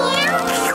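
A cartoon kitten meows close by near a frosted cake, a short bright mew with harmonic wobble, loud and sustained under the cartoon's sound bed.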